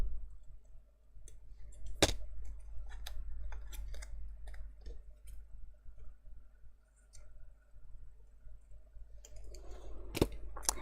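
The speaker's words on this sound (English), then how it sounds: "I'm just going to trim off some of this extra white" Small scissors snip excess white paper from a paper cut-out for an Alice in Wonderland mini album, giving scattered faint clicks and a couple of sharper snips over a quiet low hum.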